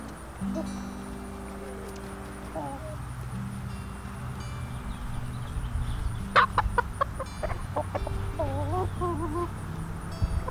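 Blue-laced red Wyandotte chickens clucking and crowing nearby, with a rooster's calls and a burst of sharp squawks amid low background noise.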